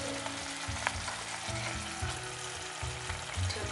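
Cauliflower curry (Malai Gobi), made without onion or garlic, sizzles and fries steadily in a karai, with a dense crackle and occasional stirring scrapes and soft bumps throughout.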